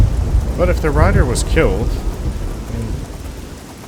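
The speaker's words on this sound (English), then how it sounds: "Ugh, this storm." Video game thunderstorm with steady rain and rumbling thunder, a continuous wash of downpour under a voice talking through the first half, then the storm alone.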